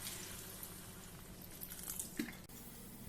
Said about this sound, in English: Add in a bit of water.